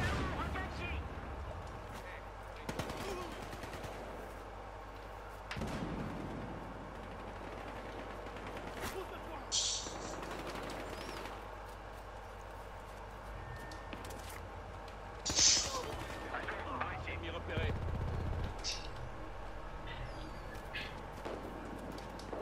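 Bursts of M16 rifle fire in the video game Battlefield Hardline, with repeated shots and distant battle noise over a steady game background, while a player talks over parts of it.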